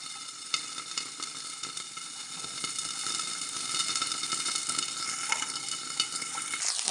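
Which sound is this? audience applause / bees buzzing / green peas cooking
green peas cooking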